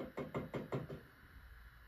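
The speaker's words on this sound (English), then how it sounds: "there's a knock on my door." Five evenly spaced knocks on a door, fairly close and moderately loud, followed by a quiet tail with no voices.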